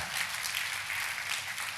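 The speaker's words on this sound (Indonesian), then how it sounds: "Tepuk tangannya boleh yang paling meriah buat Tuhan kita" A church congregation at a Good Friday service applauds together, a steady dense wash of many hands clapping at moderate volume that holds evenly throughout without voices on top.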